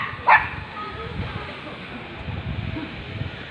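A single short, sharp dog bark near the start, fairly close, followed by low outdoor background noise and no further barking.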